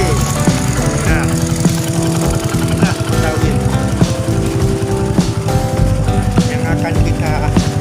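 Small engine running in a miniature bus model, a loud, continuous buzzing drone with a steady rhythmic chatter throughout, while a person talks over it.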